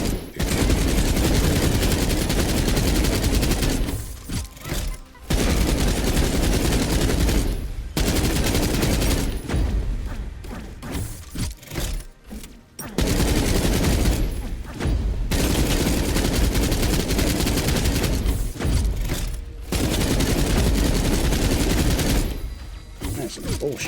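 Sniper and rifle fire in the sci-fi shooter Earth From Another Sun comes as loud, sustained bursts of gunfire with short pauses between them. Someone talks briefly during the gaps.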